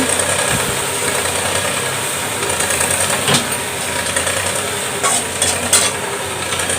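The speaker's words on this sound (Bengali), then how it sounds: "পেঁয়াজ আলু আর বেগুন একবারে ভেজে নিচ্ছি" Onion, potato and eggplant fry together in a pan with a constant crackling sizzle. Occasional scraping stirs and soft knocks rise above it, close up, with no voices.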